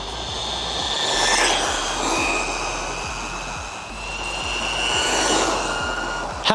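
An AM-D12 RC desert buggy drives past, its electric motor whining at a rising and falling pitch over steady road rumble, loud and continuous, with no voices.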